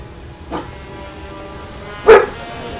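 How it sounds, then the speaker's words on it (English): A dog barks in the video game Indiana Jones and the Emperor's Tomb, two short barks about a second and a half apart, the second louder, over a low game background with no talk. "Blue, stop barking"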